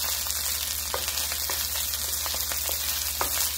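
Rice coated with a teaspoon of turmeric fries in a pan for fried rice with ribeye steak, giving a steady close sizzle and crackle, with faint scraping from stirring.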